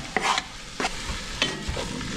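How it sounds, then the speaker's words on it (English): Browned stew meat with a can of chipotles in adobo and a head of garlic is stirred in a hot pot, a spoon scraping through it several times over a steady close sizzle. "Just stir it up"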